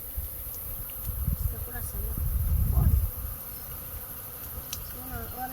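Bees swarm and buzz around a hive inside a baobab tree as smoke disturbs them, a steady insect drone that swells to a louder burst midway before settling, with faint voices in the background.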